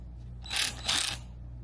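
A compact cordless electric ratchet whirs in two short bursts of about a third of a second each, close and quiet, with a brief pause between.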